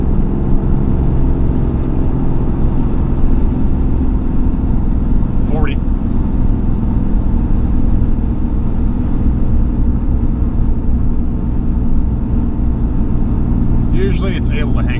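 A truck tows a Bandit 20XP track chipper up a steep 8% grade, its engine droning loudly and steadily throughout, with faint higher whines now and then above the heavy low rumble.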